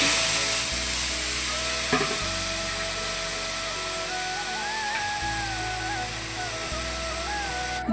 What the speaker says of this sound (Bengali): এই যে এদিকে ভেজে নিচ্ছি আর কি তেল কিন্তু দিইনি